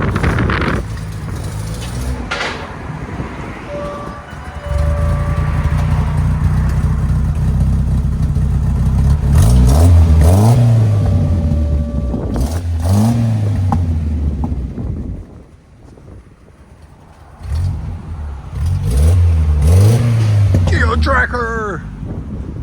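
A 1989 Geo Tracker 1.6L idles through a side exhaust with a deep, loud rumble, revving up and settling back several times while people talk over it.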